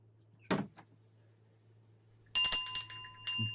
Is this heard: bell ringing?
yes